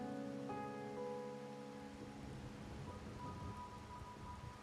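Steady rain falls with a low rumble of thunder in the video game Wuthering Waves, set in Raguna. Sustained tones fade early on, leaving a soft, even hiss of rainfall.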